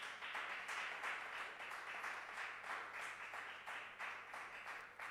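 Church congregation applauding and clapping together in thanks to the Lord during a Sunday service, a steady dense patter of many hands held at an even level throughout, fairly faint and distant.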